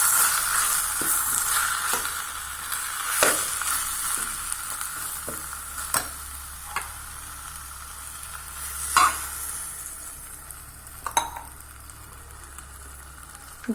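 Kulambu masala sautéing in a pan, a continuous close sizzle with spoon scrapes and taps stirring it at an irregular pace, no talk.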